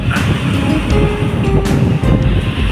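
Strong sea waves surge along Manila Bay near a small fishing boat, a steady loud wash of surf with gusty wind rumble filling the whole moment, no voices.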